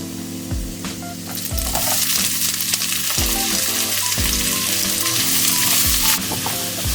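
Onion sautéing in a pan with crushed garlic, a loud continuous sizzle and crackle with repeated scraping stirs of a utensil, close up and with no talk.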